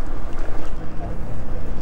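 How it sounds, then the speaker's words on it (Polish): Strong wind buffets the microphone in loud, continuous gusty rumbles outdoors during changeable weather, with a voice partly mixed into the roar. "Ale jest wiatr."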